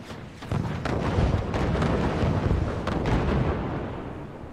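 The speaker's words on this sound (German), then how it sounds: "Ich glaube, wir machen den ersten Schuss, oder?" Cannon fire from a ship in the game Forts, a heavy rumbling barrage of booming blasts that rolls on steadily and fills the whole stretch with low, dense explosions.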